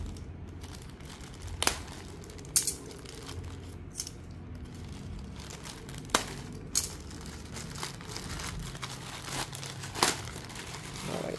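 Plastic packaging for motorcycle knee guards is opened: steady crinkling and rustling with sharp crackles and snaps every second or two, close up and with no talking.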